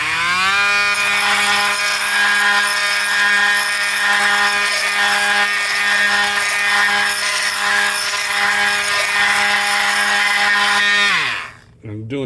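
A cutting tool shaves down a layer of a Hayward DE pool filter pad in a steady, loud, continuous grinding whine with harmonic tones, running nearly twelve seconds before abruptly dropping off at the end.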